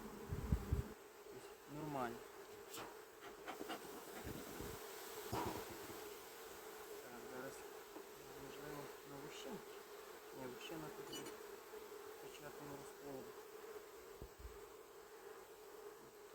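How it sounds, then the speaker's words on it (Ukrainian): Honey bees buzz around brood frames during a hive inspection, a steady close droning hum with a few louder passes near the start. Someone speaks briefly over it. "бджілки не б'ються, нічого, нормально себе ведуть"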